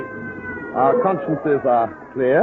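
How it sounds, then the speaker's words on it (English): A police car siren sound effect from an old-time radio crime drama wails steadily beneath overlapping dialogue, with actors talking over it throughout. "That's a siren."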